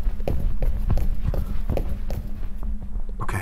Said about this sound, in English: I swear I keep hearing footsteps